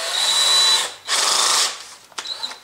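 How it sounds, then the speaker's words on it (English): A small electric drill drilling a pilot hole whirs loudly in two bursts, a high steady whine close by, followed by a few light clicks. "So you take your small drill."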